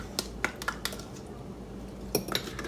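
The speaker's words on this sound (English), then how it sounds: "Let's just get those stirred in." A spoon clinks against a bowl while stirring an oatmeal bake mixture, giving a few sharp, close taps spaced through the moment and a small cluster near the end, with no talking.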